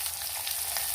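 Finely chopped onions frying in a pan for sambar, a dense, steady sizzle with constant crackle close up and no voices.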